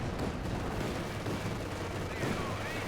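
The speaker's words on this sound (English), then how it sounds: "That was a hell of a shot there from Synthesis Panzerkampfwagen 4" Tank cannon fire and battle noise from the video game Company of Heroes 2, including a Panzer IV shot, dense continuous gunfire and explosions filling the mix at loud level.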